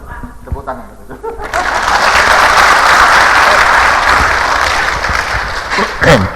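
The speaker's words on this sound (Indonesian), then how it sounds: "Tepuk tangan." Applause from a church congregation swells after a quiet start into sustained, dense clapping that fills most of the clip, with some laughter mixed in and a voice near the end.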